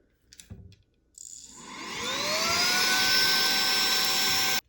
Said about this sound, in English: I'm going to try the vacuum function with the bristle attachment to see if we can get this vacuumed up here